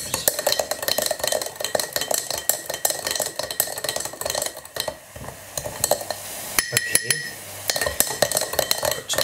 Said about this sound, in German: jetzt müssen wir es mal umrühren